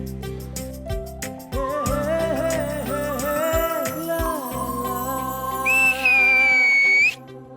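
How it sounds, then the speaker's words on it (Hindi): A person gives a bright, rising whistle near the end, loud and sustained for about a second, following a stretch of tonal music. "सीटी क्यों मारी?"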